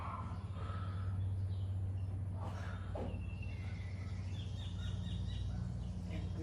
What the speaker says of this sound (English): Do you hear the birds in the background?